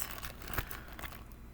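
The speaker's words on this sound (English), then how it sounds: "a plastic bag." Plastic bag crinkled and handled close by, a soft steady rustle with one sharper crackle partway through, faint and with no voices.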